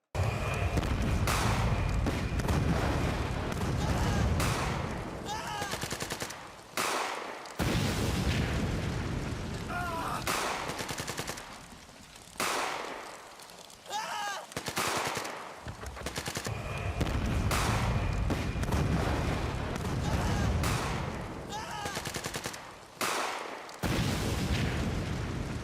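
Processed war sound effects fill the mix: dense bursts of gunfire and machine-gun rattle mixed with booming artillery blasts, loud and continuous with brief gaps, no talk.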